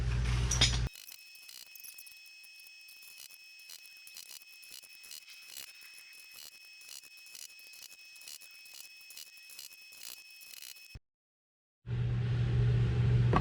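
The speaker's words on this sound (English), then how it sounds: "you thread in here and you go dink dink dink dink until it starts moving" A slide-hammer dent puller threaded into a car's rocker panel makes a steady run of faint metallic taps and clicks under a constant mechanical hum for about ten seconds, then stops abruptly before a louder rumble returns.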